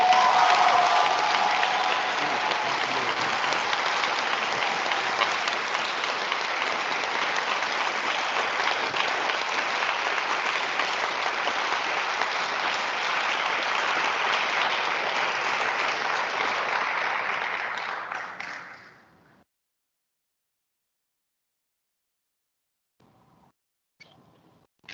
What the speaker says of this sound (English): Let's give a big round of applause to Isabel Romine.